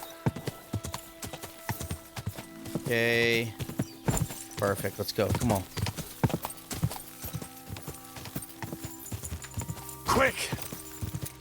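Horse hooves clip-clop at a gallop in the medieval game Kingdom Come: Deliverance II, a steady rhythmic beat with an occasional whinny, under frequent excited talk from a player.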